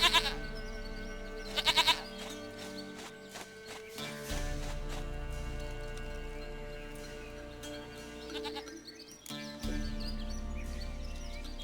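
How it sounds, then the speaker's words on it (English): A goat bleats in The Witcher 3 in the Velen region, its calls blending into a dense game score and ambience, with a few sharp louder bursts near the start. "Goat of mine, dearest, sweetest goat."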